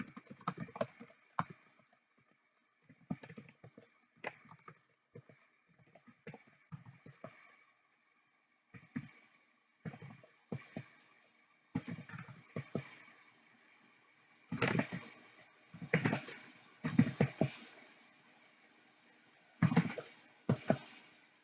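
Card details are typed on a computer keyboard in bursts of quick key clicks separated by pauses, close and fairly quiet in an otherwise silent room.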